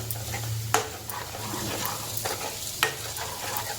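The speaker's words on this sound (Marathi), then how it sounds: "थोडंसं गूळ टाकले त्याला साधारण दोन ते तीन मिनटं असंच परतून घेऊया आपण" Eggplant masala with jaggery sautéing in a pan, a continuous soft sizzle with periodic sharp clinks and scrapes from stirring, close up and without talk.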